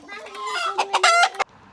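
A rooster carried from a house in rural Nepal clucks loudly and close up in a rising, agitated series of calls lasting about a second and a half, then stops abruptly.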